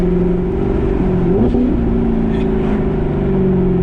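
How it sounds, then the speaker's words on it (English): A C7 Corvette with an AWE aftermarket exhaust drones steadily at high revs, with a brief blip and drop in pitch on a downshift midway, loud and close throughout. "The high rev downshift"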